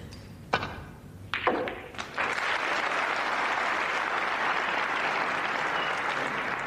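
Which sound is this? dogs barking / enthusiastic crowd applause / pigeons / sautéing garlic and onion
enthusiastic crowd applause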